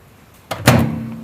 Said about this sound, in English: Now closing the door